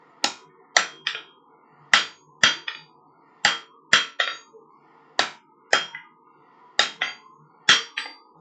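Steel being hammered down into a taper for a spike piece at a forge, a steady series of about fifteen sharp, ringing hammer blows in rhythmic pairs and singles, close and loud, with no talk.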